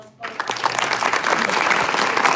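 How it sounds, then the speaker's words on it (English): Applause from an audience at a swearing-in ceremony bursts in after a brief pause and swells into dense, loud, sustained clapping, with some voices mixed in. "Can we give a round of applause,"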